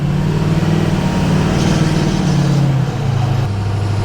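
A diesel truck engine with about 300,000 miles runs steadily at a low, even rumble, close and continuous, with a slight drop in pitch partway through.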